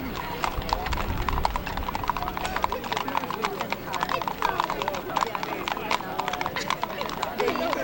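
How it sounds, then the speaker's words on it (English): Tennessee walking horses' hooves clip-clop steadily and continuously on pavement at a Mule Day parade in Columbia, Tennessee, close and fairly loud, with crowd chatter and voices running underneath throughout. "And I believe this is the first Tennessee walking horses we've seen"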